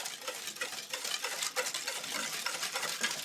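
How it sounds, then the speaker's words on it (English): Granular scraping and gritty rustling as brown and white cane sugar is stirred around in a bowl, a close, steady swishing with small clinks. "you want to stir this around"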